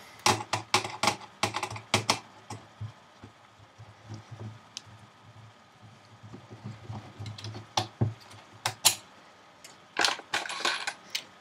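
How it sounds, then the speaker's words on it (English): Screws come out of a PS3 console in a series of sharp, close metallic clicks and ticks, clustered in bursts with quieter handling noise between them. "So unscrew them."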